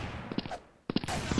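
Barrant sniper rifle firing in the video game Blood Strike, with two sharp reports about half a second apart, each followed by a brief dense rumble of noise.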